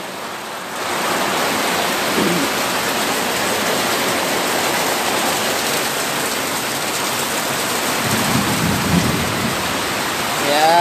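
Steady heavy rain drums on a leaky roof over a rabbitry, a dense continuous patter with no talking.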